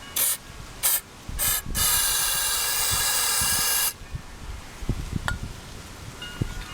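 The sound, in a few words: spraying carburetor cleaner aerosol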